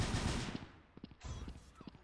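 A weapon fires rapidly in the video game Truy Kích: a dense, loud burst of gunfire opens the moment, then gives way to a few scattered, quieter shots and clicks.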